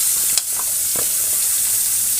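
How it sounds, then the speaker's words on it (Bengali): Katla fish frying in a pan gives a steady, close hiss of hot oil, with a few soft clinks and spattering pops scattered through the sizzle. "মাছটা ভাজা হতে থাকা"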